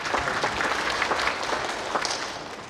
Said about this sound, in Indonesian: Tepuk tangan dulu untuk pemerintah Kabupaten Siak.